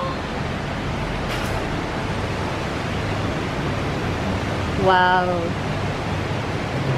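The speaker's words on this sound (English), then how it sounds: "It's raining super hard," Heavy rain pours in Bangkok, Thailand, in a dense, steady hiss, with a brief voice exclaiming once over it.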